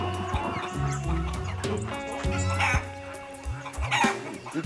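Chickens cluck and crow in a hen house, a busy, overlapping mix of close calls and rising squawks with one bird crowing, steady throughout with no talking.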